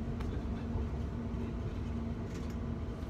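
Inside a train carriage on a ride from Edmonton Green to Rye House: a continuous low rumble with a faint steady hum, quiet and even, with no talking.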